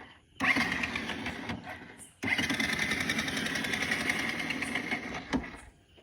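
Vehicle engine that has overheated and won't start properly, idling roughly with a steady mechanical rattle, cutting out briefly then resuming, fairly close, with people talking over it.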